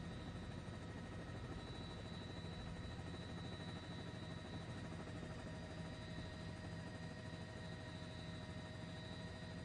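Helicopter lifting off near a partially collapsed building in the Bronx, a steady distant rotor and engine drone with constant tonal whine, fairly faint and unchanging, with no talk.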